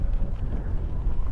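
Wind gusting against the microphone on a cycling trip in Normandy, a brief low rumbling buffet with no other sounds.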